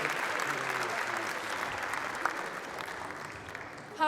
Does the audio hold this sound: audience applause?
yes